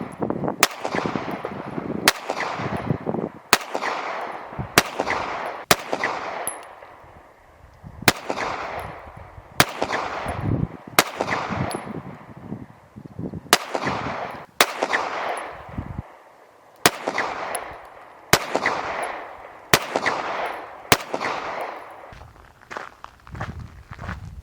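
Sharp single shots from a Rafferty Lucky Devil 2011 pistol during accuracy shooting, about a dozen loud cracks spaced roughly one to two seconds apart, each trailing off in a short echo, with quiet shuffling between.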